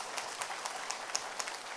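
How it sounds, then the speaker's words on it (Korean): Scattered, fairly faint hand claps from an audience at a company presentation, a handful of separate claps spaced irregularly over under two seconds. "박수 쳐보세요."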